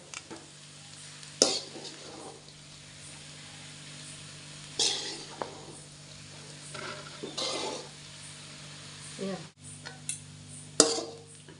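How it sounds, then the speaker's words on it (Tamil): Crumbled idiyappam stirred slowly in a pan: intermittent spoon scrapes and light clinks against the pan every few seconds over a quiet background hum. "இப்போ நல்லா நுணுக்கி விட்றாமல் பொறுமையாக கிளறிக்கோங்க"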